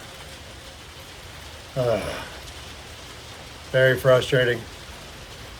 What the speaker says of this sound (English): Well, we got a bit of a rain delay.